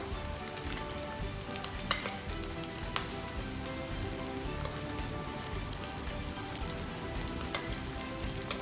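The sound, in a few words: cooked rice added to frying egg in pan, sizzling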